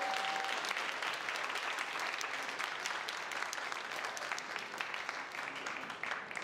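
A crowd claps loudly at a Korean bantamweight boxing title match, thick continuous applause that stays even and close throughout and thins only slightly at the end.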